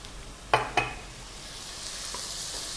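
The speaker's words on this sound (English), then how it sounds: "We'll saute it for another 2-3 minutes and add the salt and chili powder." Chopped tomatoes sauté in oil in a pan, with two sharp clinks of a spatula near the start and then a steady, quiet sizzle with no speech.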